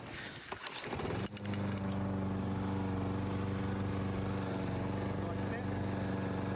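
A cheap used push lawn mower, freshly cleaned with its bag fitted, catches after a brief pull-start rattle and settles into a loud, steady idle hum close by.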